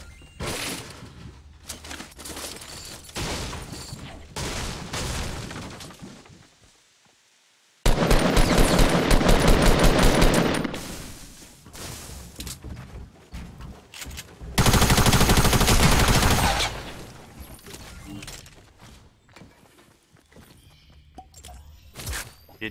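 Rapid bursts from a tactical SMG in a video game, two loud sustained volleys of fast automatic fire with quieter gameplay sounds and footsteps between them.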